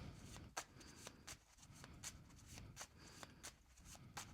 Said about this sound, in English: I'm going to grab from my compass cards and see what's coming out next.